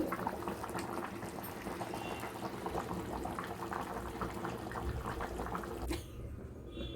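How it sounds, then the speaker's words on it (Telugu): Fish curry (chepala pulusu) boils in a pot with steady, dense bubbling and simmering that continues throughout before easing off near the end. "కొద్దిసేపు మరగనివ్వాలి అలా మరిగితే బాగా చేపల పులుసు టేస్ట్ వస్తుంది"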